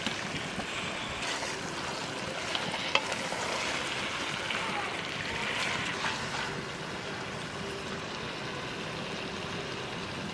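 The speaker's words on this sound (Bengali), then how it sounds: "মাংস দিয়ে একটু নাড়াচাড়া দিয়ে নিয়েছি" Chicken pieces being stirred into spiced masala in a pressure cooker, giving a steady broadband sizzle and scraping that runs evenly throughout with small clanks of the spoon.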